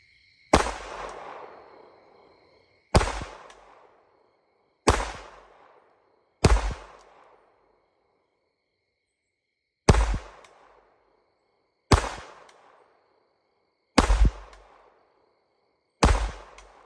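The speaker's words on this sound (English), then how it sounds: "We're going to splice in some nighttime shooting. SIG P322 pistol, 100 yards, night," Eight single SIG P322 pistol shots fired at night at 100 yards with Remington Golden Bullets, each a loud sharp crack followed by a rolling echo, spaced a few seconds apart with no talking.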